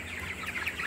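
Cornish Rock Cross meat chickens cluck and murmur in a brooder, a soft, continuous chatter of many birds at moderate distance.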